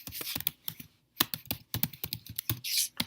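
Quick, uneven bursts of clicking keys come from a computer keyboard as code is typed up close, with short pauses between runs of keystrokes and no speech.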